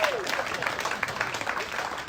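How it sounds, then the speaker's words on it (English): An audience at a bream fishing tournament grand final presentation applauds, dense steady clapping from many hands filling the room, with a brief voice at the start. "Big round of applause for Darren."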